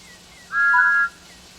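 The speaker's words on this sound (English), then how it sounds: "まずは汽笛を鳴らすのね。" A steam locomotive whistle in the Train Sim World 5 video game, Thomas & Friends edition, sounds one clear sustained toot of about half a second, loud and alone over a quiet hum.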